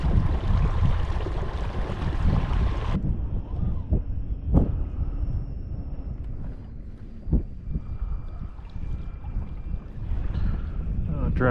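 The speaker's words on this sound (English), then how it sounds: "I'll try and get out of this wind." Wind gusting over a fishing boat on Raystown Lake, a steady broadband roar that is loud at first, then drops to a lower rumble with faint thumps and knocks from the boat.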